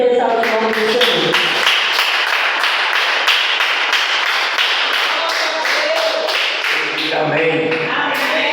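Congregation clapping in a church service, dense continuous applause with sharp hand claps throughout, loud and close, with singing or voices underneath.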